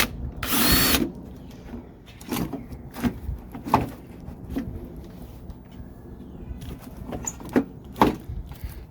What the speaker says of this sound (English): Got a 3/8 drill bit. We can make this hole a little bigger so it'll fit on there.